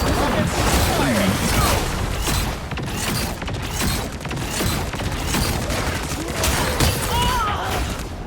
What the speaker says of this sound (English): Rockets fire!